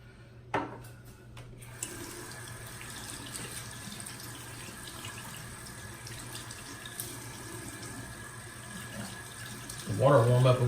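Steady running water from a barbershop tap fills the background throughout, with a few brief clunks early on and a louder splash near the end.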